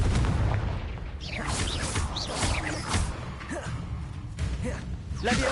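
Confringo blasting spell explosions in the Hogwarts Legacy video game, several dull booming blasts over a busy, rumbling combat background.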